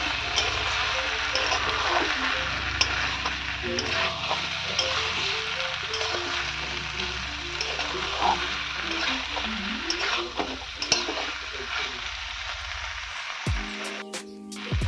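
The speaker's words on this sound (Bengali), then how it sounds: "দিয়ে একটু ভালো করে নেড়ে নিচ্ছি যাতে মশলাগুলো আলু ও পনিরের মধ্যে ঢুকে যায়" Potato and paneer pieces stirred into a spiced yogurt masala in a hot pan, with steady sizzling and repeated spoon scrapes over about thirteen seconds before it cuts off abruptly.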